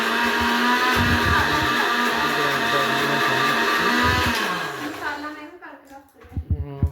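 A large mixer grinder grinds spices in a steady, loud, whirring drone that runs continuously before cutting off near the end, leaving a few faint clatters and rustles.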